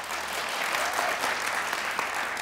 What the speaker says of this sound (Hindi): जिनको लगता है अर्जेंटीना को तालियां बजाएं